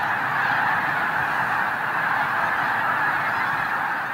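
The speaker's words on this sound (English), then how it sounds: "Hundreds of thousands of geese, swans, cranes, and ducks stop at the Klamath Marshes." A large flock of migrating geese at the Klamath Marshes in Oregon honks in a continuous, dense chorus that stays loud and steady throughout.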